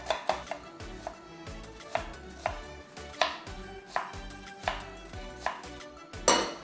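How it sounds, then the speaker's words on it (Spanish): A knife chops an onion into small brunoise cubes on a cutting board for a pollo a la olla dressing, a steady series of crisp, evenly spaced cuts, close and clear with no talk. "Vamos a picar la cebolla para hacer el aderezo de pollo a la olla."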